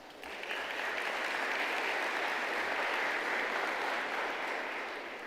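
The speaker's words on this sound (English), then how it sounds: "A round of applause to him." An audience at a ministerial summit in Cape Town breaks into steady applause, a dense wash of clapping that holds evenly for several seconds before tapering slightly at the end.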